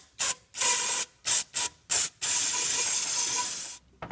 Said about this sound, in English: I'm going to take some carburetor cleaner and just spray in here.